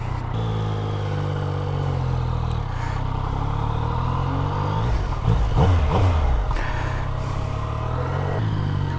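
A Yamaha MT-09 motorcycle's engine hums steadily while riding, with a smooth mid-range drone that swells briefly under throttle before evening out again.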